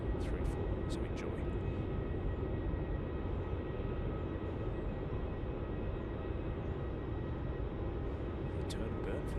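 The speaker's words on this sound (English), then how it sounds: "QF93, Melbourne to LAX, A380, 800 now rolling down runway 34" A Qantas Airbus A380-800 rolling down runway 34 at Melbourne airport for takeoff, heard as a steady, distant broadband jet roar that holds constant throughout, with faint voices and clicks.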